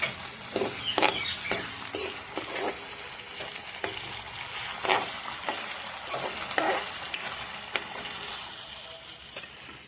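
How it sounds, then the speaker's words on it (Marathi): Masala roasting in a pan for a bitter gourd curry: a constant close sizzle broken by frequent sharp scrapes and taps of a stirring spoon, with no talking. "चांगलं होऊन द्यायचं एकदम करून मसाला चांगला भाजून द्यायचा"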